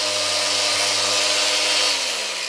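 An electric sander sanding paint on a Suzuki RG250 whines and buzzes continuously up close, a loud steady motor drone with a gritty hiss that dips slightly as it winds down.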